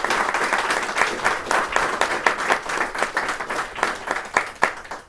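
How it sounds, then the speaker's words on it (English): A small audience gives Curtis Jenkins a round of applause, individual claps distinct and uneven, fairly close and loud, with a patchy rhythm that rises and falls over a few seconds. "Can we all give Curtis Jenkins a round of applause?"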